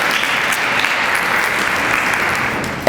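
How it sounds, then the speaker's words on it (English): An audience at a city's State of the City address gives a steady, dense round of applause, loud and continuous for a few seconds with no talk over it. "can we give the Macomb County Chamber a hand of applause?"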